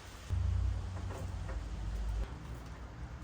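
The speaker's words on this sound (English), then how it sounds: "It's just started raining" Rain falls outdoors in a soft, steady patter, with a deeper low rumble swelling briefly beneath it.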